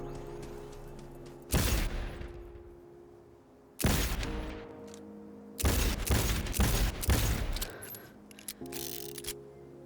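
A six-shooter revolver fires on full auto in Cyberpunk 2077, heard as several separate loud bursts of rapid close shots, each trailing off into a decaying echo, with quiet gaps in between.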